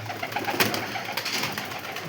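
Pigeons coo softly in a loft, a low burbling murmur that runs continuously over a dense, busy background with no speech.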